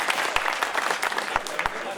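An audience claps at a Hindi poetry gathering, a kavi sammelan, in 2022, with a dense patter of many hands and a few sharper claps standing out, while a voice carries on over the applause.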